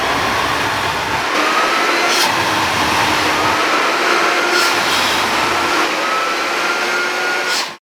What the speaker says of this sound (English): So I'm going to turn on both vacuums, motors, and then I'm going to plug this so you can see that light up.